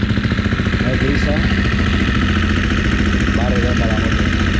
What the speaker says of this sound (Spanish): Va redonda la moto.